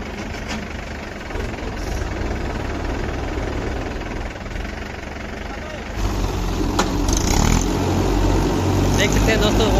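Two Mahindra tractors, a Yuvo 475 and a Bhumiputra, rev their diesel engines in a tug-of-war contest, a steady loud rumble that swells louder partway through, with crowd noise and voices mixed in.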